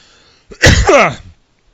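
A single sharp cough-like burst close to the mic, brief and loud, with silence before and after.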